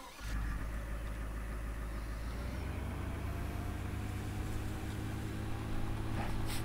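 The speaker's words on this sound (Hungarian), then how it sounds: "Ja, autó van, mondom" A tractor engine in Farming Simulator 17 hums steadily at a medium pitch, a constant droning motor sound with little change, like a vehicle cruising or idling.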